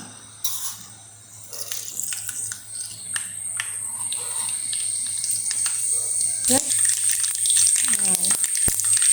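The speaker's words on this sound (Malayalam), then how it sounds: "എണ്ണ ചൂടാകുമ്പോൾ നമുക്ക് അതിൽ കുറച്ച് കടുക് ഇട്ട് കൊടുക്കാം" Mustard seeds spluttering in about two tablespoons of hot sesame oil for a mango pickle, a close crackling sizzle that builds and grows busier over time, with a brief voice near the end.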